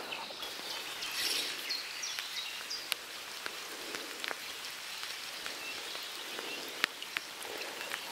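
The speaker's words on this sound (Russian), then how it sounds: "дождь пошел сильно" Heavy rain pouring steadily at a riverside trout fishing spot, a dense close hiss of drops with scattered sharp splats and faint bird calls behind.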